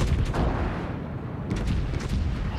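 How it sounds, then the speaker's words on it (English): A nuke firing in a naval combat video game, a continuous heavy rumbling roar with deep booming texture, sustained and loud throughout. "Why is this nuke firing?"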